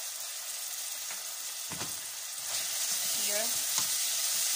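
Chopped onion frying with salt in a hot pan, a steady close sizzle with a few stirring scrapes, and the hiss growing slightly louder partway through; a voice speaks briefly.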